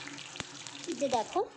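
Whole spices for tempering fry in mustard oil while a vegetarian banana-flower ghonto is made: a soft, steady sizzle with small crackles, close and fairly quiet, under someone talking.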